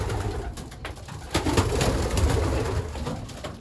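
Pigeons coo softly inside a loft, their low murmuring calls overlapping against a steady background hiss with occasional light clicks and rustles.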